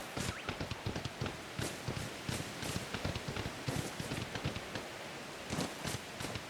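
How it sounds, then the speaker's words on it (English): Rain in Pokémon Legends: Arceus, a quiet patter of irregular drop-like ticks and soft rustling with no talk over it. "The fact that it's raining isn't a great sign."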